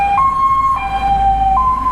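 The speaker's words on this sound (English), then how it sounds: "You got another ambulance on the go." Ambulance siren on a city street, a loud two-tone wail alternating between high and low pitches in slow steps, heard close with traffic rumble underneath and no talking.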